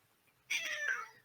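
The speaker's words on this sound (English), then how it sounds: "We've got cat noises." A single cat meows once, a clear, fairly close drawn-out call that rises and falls over about half a second, then fades into quiet room tone.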